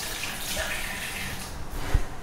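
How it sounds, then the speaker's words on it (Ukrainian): Water running weakly from a tap in a hotel bathroom on Lombok, a continuous hissing flow that stays fairly steady, with a brief knock near the end. "Вода не дуже добре виходить звідси."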